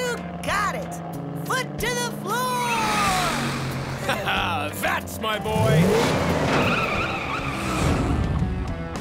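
Cartoon monster truck revving and accelerating hard with squealing, skidding tires, loud and busy under excited character voices and a music score.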